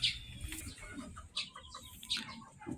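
Pigeons call and chirp in short, scattered bursts against a faint background, some sharp high notes and softer low sounds, nearby but quiet.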